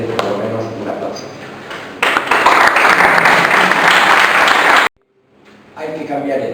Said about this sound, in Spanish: esto merece por lo menos un aplauso